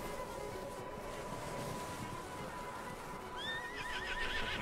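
A horse whinnies in Red Dead Redemption 2, a rising, quavering neigh near the end over a steady bed of wind-like ambience.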